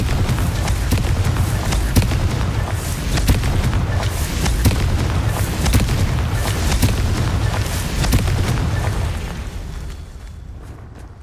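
A Confringo blast spell explodes in Hogwarts Legacy, a dense run of loud booming bursts and rumbling impacts that carries on steadily before fading away near the end.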